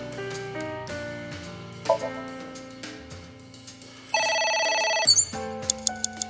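A telephone rings in the video game AI: The Somnium Files, with repeated electronic ringing tones layered over game music and sound effects, loud and up close.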